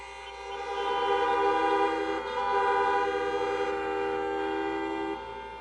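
Car horns honk together at an outdoor drive-in political rally, a dense sustained chorus of overlapping tones that runs loud and steady for several seconds with a brief dip midway.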